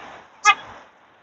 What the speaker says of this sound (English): Someone in a, I don't know, a Mazda or something, just honked at us.